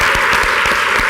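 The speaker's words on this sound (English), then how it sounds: "give Megan and all of her team a round of applause for putting this together" A keynote audience at a women's hackathon gives a round of applause, loud close clapping with individual hand claps audible in a brisk, steady rhythm over a continuous clatter.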